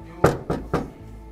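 Three firm knocks on a house door in quick succession, close and distinct, with a short pause after.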